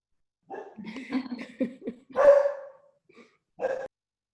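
A dog barks and yips several times in short bursts with a whimpering quality, close to the microphone and fairly loud, with pauses between calls and no speech over it.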